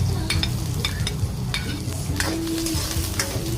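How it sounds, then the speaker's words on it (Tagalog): Garlic and onion sauté in hot oil for pork menudo, a continuous close sizzle with occasional scraping stirs across the pan. "Isa-gisahin lang natin yan mga idol."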